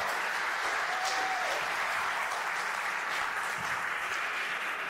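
An audience applauds a speaker being introduced at an evening event, a dense continuous wash of clapping at steady loudness throughout, with a faint voice briefly underneath.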